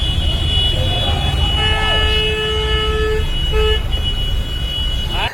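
Car horns blare in a traffic jam during a protest against India's Home Minister Amit Shah. Several long, overlapping toots sound loud and sustained over a constant rumble of traffic.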